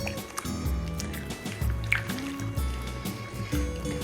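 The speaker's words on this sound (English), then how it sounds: "I'm going to come right back over here and I'm going to stir" Melted hearty queso cheese dip stirred with a fork in a home kitchen, giving soft, thick, wet squishing and gloopy sounds that continue close by with a low steady hum underneath.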